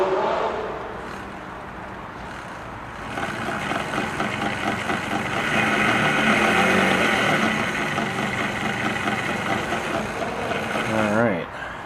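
Elna Supermatic sewing machine motor running in drive, a steady mechanical whir with rattling texture that rises after a few seconds and holds, close and loud, ending with a brief shift near the end.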